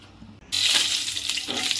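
Panch phoron five-spice is dropped into hot oil for a fish head and cauliflower curry. Quiet gives way to a sudden loud, hissing sizzle that keeps going for over a second.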